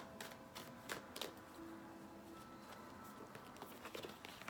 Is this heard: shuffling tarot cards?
yes